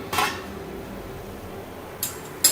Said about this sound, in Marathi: आपण काढूया झाकण